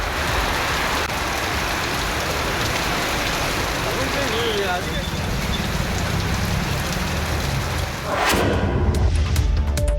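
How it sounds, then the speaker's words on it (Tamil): Heavy rain pours down around Sirkazhi in Tamil Nadu, a loud, dense, continuous hiss of drops on surfaces lasting throughout, with a sharper burst near the end. "சீர்காழி சுற்றுவட்டார பகுதிகளில் காலை முதலே விட்டுவிட்டு கனமழை பெய்தது."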